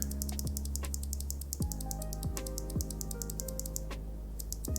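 Steady clacky keystrokes on a mechanical keyboard with Moyu Studio Betty tactile switches, typed at an even pace, crisp and close, over a low background hum.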